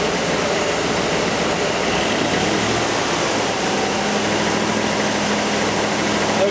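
A Ford engine with EEC-IV electronic ignition and a misfire, held at raised RPM, giving a loud continuous mechanical drone with a steady hum and no talking, close by throughout.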